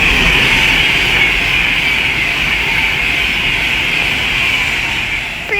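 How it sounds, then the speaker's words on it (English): An Avanti West Coast class 390 Pendolino electric train roars past close by at Leighton Buzzard on the West Coast Main Line, with a loud, steady whoosh and a high whine that holds throughout, fading slightly at the end. "The next train to pass by is going to be an Avanti West Coast class 390 Pendolino."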